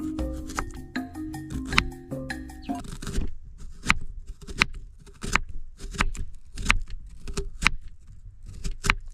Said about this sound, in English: So we're going to cut our ingredients. I'm starting with the onion.